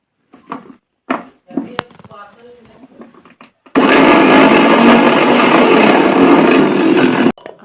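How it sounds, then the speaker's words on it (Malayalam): A mixer grinder pulverises roasted rice and fenugreek, a loud continuous whirring grind lasting several seconds before stopping abruptly, preceded by a few knocks and brief speech. "ഉലുവ വറുത്തതും അരി വറുത്തതും കൂടെ ഒന്ന് പൊടിച്ചെടുക്കാം കേട്ടോ."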